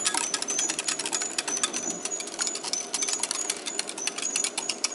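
Italian dressing mix shaken or stirred in a container, a rapid dense rattling of dry granules against the sides, close and steady for the whole stretch with no pauses.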